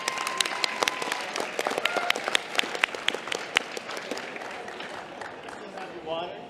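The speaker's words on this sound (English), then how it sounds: "Round of applause." Audience at a medical quiz championship claps, with sharp individual claps standing out in a lively burst that thins toward the end, with some voices mixed in.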